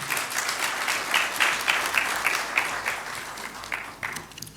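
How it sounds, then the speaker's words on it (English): A crowd claps steadily and loudly at a swearing-in ceremony to welcome Ghana's President, the dense applause filling the whole stretch with slight swells and no voices over it. "Let's welcome His Excellency with a big round of applause"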